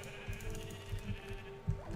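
A Minecraft sheep bleats a few times in quick succession, close and clear over a faint steady game background hum.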